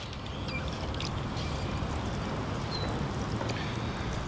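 Water pours onto a large potted native red maple bonsai, a close, steady splashing trickle that runs unbroken for a few seconds.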